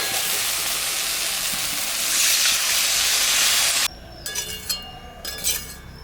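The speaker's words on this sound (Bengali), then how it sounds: "মশলাটা ভাজা ভাজা হয়ে গেছে এখন আমি" Water poured into a pan of fried spice masala with tomato for a rohu fish curry gives a loud, steady hiss for about four seconds, then cuts off to quieter sizzling with light clinks.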